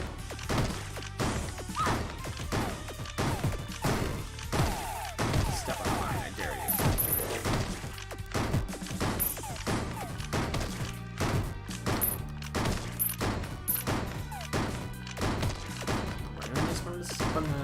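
Repeated gunshots and crashing impacts come from enemies in the video game Resistance is Fruitile, a busy, rhythmic barrage under game music with bits of voice mixed in.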